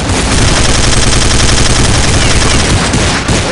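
Counter-Strike gunfire on the Wild West map de_westwood: dense, continuous bursts of loud shots and rapid automatic fire filling the whole stretch, harsh and close, with no pauses.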